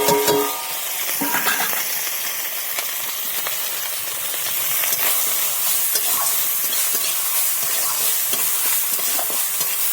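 Prawns fry in hot oil in a wok, giving a loud, continuous sizzle and hiss with occasional light scraping from stirring, close by and alone without any talk.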